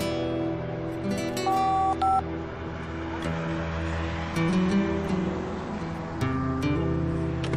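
A telephone is dialed in a domestic drama scene: a quick sequence of short keypad tones, then steady background music and hum with no talk.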